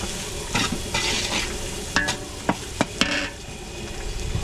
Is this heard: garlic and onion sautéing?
yes